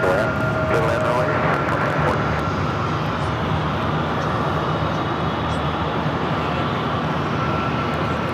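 An airliner landing on the runway at Phoenix airport, heard as a steady broad roar of engines and rushing air at moderate distance, with a person talking over it at first.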